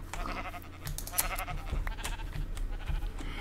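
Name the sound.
sheep bleating in the video game Minecraft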